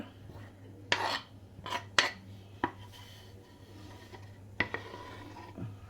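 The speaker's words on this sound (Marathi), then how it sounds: "आता ह्याच्यामध्ये मी हे सगळं मिक्स करते कांदा टाकून घेते" A spoon scrapes and clinks against a bowl while chopped vegetables and onion are mixed for a veg cheese sandwich. Several sharp clatters come close up over quiet background scraping.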